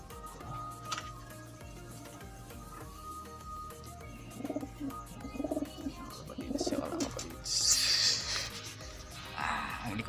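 Pigeons nesting with eggs give soft, low cooing calls in short repeated bursts nearby, among light ticking and rustling, with someone speaking quietly at times.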